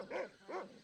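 A dog barking in the Monkey Island 2 video game: two quick, clear barks in steady rhythm, moderately faint and alone.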